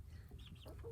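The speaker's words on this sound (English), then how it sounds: "little chickies, happy hens." Hens on pasture cluck in a few short, soft calls from a small flock, fairly close, with a low steady background hum and no talking.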